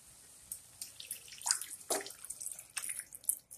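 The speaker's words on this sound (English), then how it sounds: "and I will add water into it." Water added from a vessel into a pan of raw banana and fried potato curry, a soft splashing and trickling in a few uneven bursts, close and fairly quiet with no talking.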